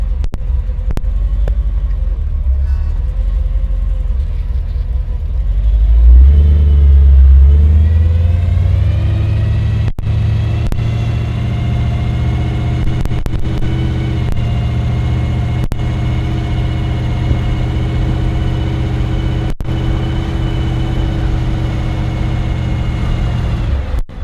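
A 1942 Willys Gasser with an automatic transmission drives off, its engine idling, then revving up in a loud low surge and settling into a steady rumbling cruise with further throttle swells, no talking.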